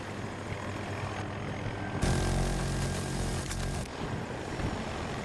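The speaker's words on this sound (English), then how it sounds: "Bro, there are so many helicopters, holy shit." Helicopters in a multiplayer shooter video game, their rotor and engine drone swelling loudly for a couple of seconds amid steady game ambience, with no talking.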